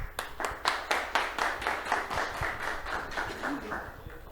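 An audience at a workplace safety event claps to welcome a speaker, individual claps distinct and rhythmic at first, loosening into a looser patter before fading, moderately near with faint murmuring underneath.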